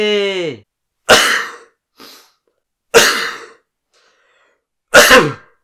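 A short voiced 'ah' followed by three sharp, explosive sneezes spaced a second or two apart, close and loud with silence between them.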